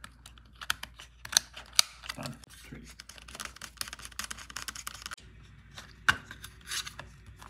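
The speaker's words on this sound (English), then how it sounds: "Now I'm just going to connect the SATA connector" A SATA connector pushed onto a laptop hard drive during a storage upgrade, heard as a series of close, sharp plastic clicks and small handling taps, with rustling between them.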